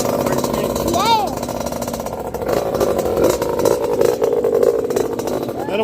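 A KTM SX dirt bike idles as it warms up, giving a steady close mechanical rumble with a brief rev near the start. People talk over the engine.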